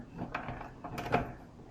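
A plastic food dehydrator tray is set down and stacked on top of the others, two short faint clattering knocks and scrapes close by, no talk.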